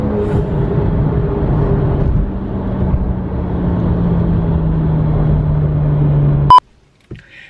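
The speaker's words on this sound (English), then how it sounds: "Love taking the Volkswagen Beetles out." Volkswagen Beetles drive along wet roads, their engine droning steadily up close with a low, gradually falling hum for several seconds, then cutting off abruptly with a sharp click, followed by near silence and a brief thump.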